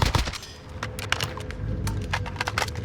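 Rapid bursts of gunfire in Call of Duty Warzone, a close firefight with sharp repeated shots crackling in quick clusters over a low game rumble.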